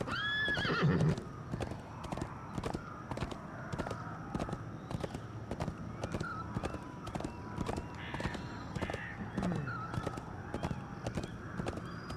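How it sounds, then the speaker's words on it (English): A horse in a video game trots with a steady clip-clop of hooves, broken by loud neighs and whinnies, with no talk. "That's a good horse."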